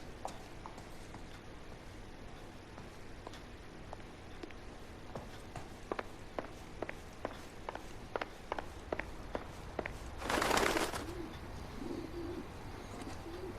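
Pigeon cooing in the 1940s Los Angeles setting of the video game L.A. Noire, heard as a series of soft, regular coos and faint clicks over a steady ambient bed, with a brief burst of fluttering or rustling near the end.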